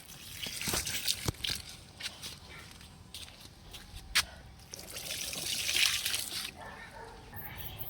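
Soaked lemon peel water is poured onto potted jasmine plants outdoors, giving a soft trickling and splashing that comes in several short pours, with faint shuffling between them.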